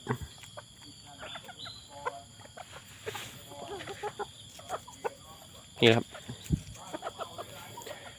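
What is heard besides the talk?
bantam chickens clucking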